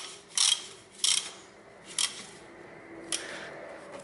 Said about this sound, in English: then I fasten this tensioner central bolt